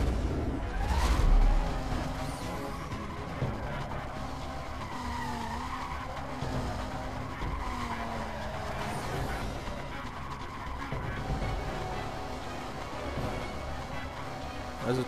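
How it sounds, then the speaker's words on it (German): Car drifting and skidding in the Need for Speed Most Wanted video game, a continuous screech of tires over a loud engine roar with a heavy thump early on, steady throughout. "Also driften kann man mit dem Auto ziemlich geil."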